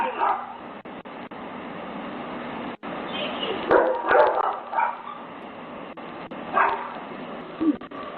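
A dog barks loudly and repeatedly at close range over a steady, noisy background, with several clustered barks and yelps spread unevenly through the stretch.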